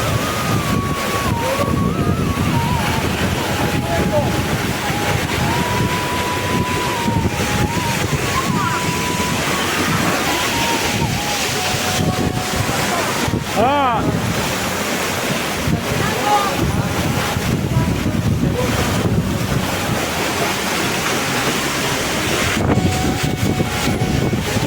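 Strong wind blowing across an open seaside spot, buffeting the microphone in loud continuous rushes with surf beneath, while a person talks intermittently.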